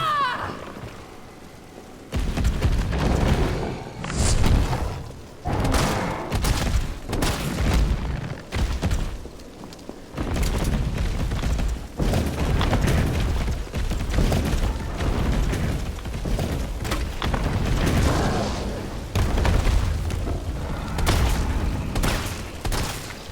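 Mine explosions and shotgun blasts from the video game Resident Evil 3 boom repeatedly in loud, heavy bursts, coming one after another over about twenty seconds.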